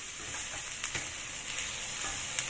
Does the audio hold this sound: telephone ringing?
no